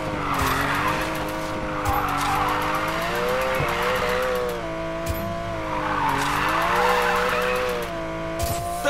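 A Porsche 911 Carrera S in Need for Speed Payback drifts continuously, its engine holding a high droning note under sustained, loud tire squeal with brief rises and dips in pitch.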